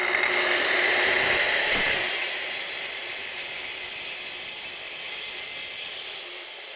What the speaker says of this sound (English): pull the trigger, plunge it, and then proceed into the cut.